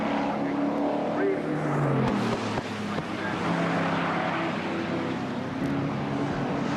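MG BCV8 race cars roaring past on the last lap of a 1998 MGCC BCV8 Championship race: a dense, continuous engine drone with shifting tones, loud and unbroken throughout.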